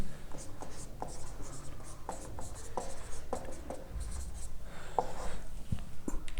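Chalk or marker scratches and taps across a board during a maths lecture on logarithms, a close, steady run of short strokes over a quiet room hum.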